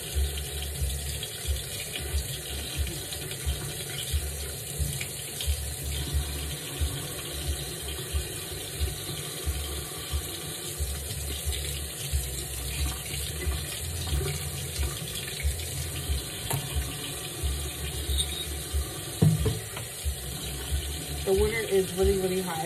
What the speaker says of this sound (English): With hot water, like this is really hot water.